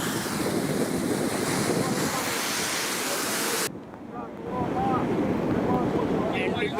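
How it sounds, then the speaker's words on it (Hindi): Floodwater rushes over a broken road after heavy rain in Chatra, Jharkhand, giving a loud steady roar of flowing water mixed with wind buffeting on the microphone, which briefly drops away mid-clip before returning. "इस दौरान टूटी हुई सड़क के हिस्से में पानी काफ़ी तेज़ी से बहता दिखा।"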